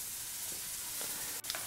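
Faint, wet squelching and scraping as a spoon works through thick pea porridge, a few soft strokes over a steady background hiss.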